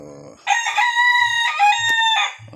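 A fighting gamecock rooster crows once, loud and close, a long strained cock-a-doodle-doo lasting about two seconds, with a few soft low clucks around it.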